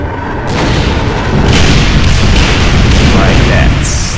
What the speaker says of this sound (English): I want to throw a grenade